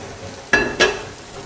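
A pan of au jus sauce being deglazed gives two quick bursts of sizzling and scraping, close and fairly loud, followed by a quieter bubbling hiss.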